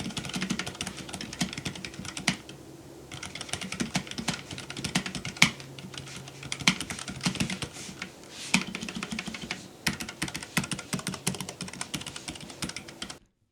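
Rapid typing on a keyboard fitted with Gateron low profile optical switches gives quick clustered clicks and clacks in bursts with short pauses, close and fairly quiet, with no voices.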